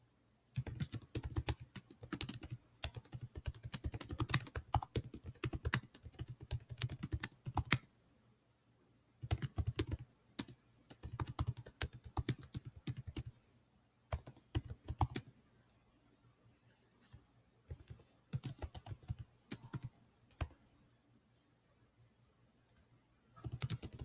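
Message typed on a computer keyboard in bursts of rapid key clicks, separated by short pauses, close and fairly quiet, with no talking.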